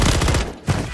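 Gunfire from the Call of Duty video game cracks out as a short, loud burst of rapid shots, stops briefly, then resumes.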